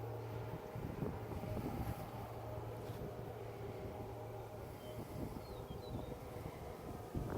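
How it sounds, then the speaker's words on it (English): Gentle wind blows across an open outdoor spot on an early morning walk, a low, steady, faint rumble of air with no voices and no distinct events. "Usually before the wind really picks up. It's just blowing gently right now."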